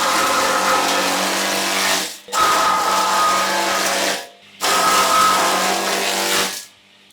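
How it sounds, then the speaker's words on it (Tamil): A chaff cutter machine chops super napier fodder grass in three loud bursts of whirring, grinding blade noise, each lasting about two seconds and separated by brief pauses as the stalks are fed in. "அடுத்து சூப்பர் நேப்பியர் கட் பண்ணி பார்க்கலாங்க"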